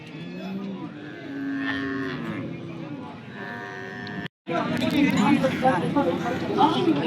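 Cattle moo repeatedly at a busy livestock market in Salem, Tamil Nadu, with long low calls, some near and some farther off, over crowd noise and people talking nearby.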